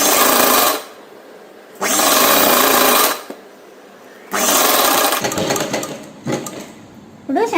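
Sewing machine stitching a lehenga top, running in three loud bursts of steady whirring separated by pauses, with a rougher, uneven final stretch near the end.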